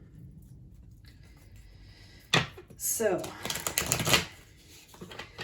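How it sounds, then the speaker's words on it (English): A deck of tarot cards is shuffled by hand in a quiet room, giving a sharp riffle followed by a couple of seconds of dense, rapid papery flutter up close, with a brief spoken word nearby. "let's just go ahead and give them another quick shuffle here"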